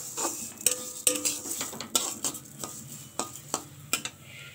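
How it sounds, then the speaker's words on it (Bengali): Moong dal being dry-roasted in a pan at home, with a utensil scraping and clinking against the metal in irregular close strokes over a faint background hiss. "ডালটাকে একটু ভেজে নেব।"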